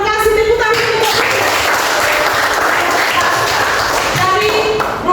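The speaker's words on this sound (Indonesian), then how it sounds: "Oke, terima kasih tepuk tangan." A classroom of students claps together in a loud, sustained burst of applause, close and dense, with brief voices heard at the start and end.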